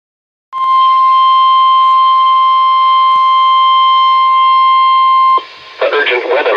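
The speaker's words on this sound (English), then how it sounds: "This ends the test of the National Weather Service weather radio warning alarm." A National Weather Service weather radio warning alarm sounds as one loud, steady, piercing tone lasting about five seconds, then cuts off as a broadcast voice begins.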